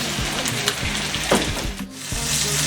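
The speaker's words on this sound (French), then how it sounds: "le temps de mijoter pendant 10 minutes" Chicken and vegetables cooking in a pan, a steady sizzle with soft crackles and occasional stirring scrapes, close and continuous throughout.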